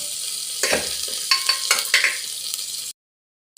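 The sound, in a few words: horse gram cooking in a pan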